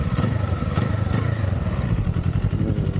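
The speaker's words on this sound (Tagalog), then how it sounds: "This engine guys. So yun yung tunog niya." A motorcycle engine idles steadily and close, a dense low rumble with some mechanical clatter throughout, on a round trip to Ely, Somerset.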